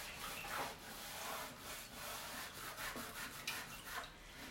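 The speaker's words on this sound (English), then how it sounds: "I'm just gonna rub it back." Waxed chalk mineral paint with a top coat is rubbed back on a wooden surface, giving a soft, continuous scrubbing friction with repeated strokes, close and fairly quiet.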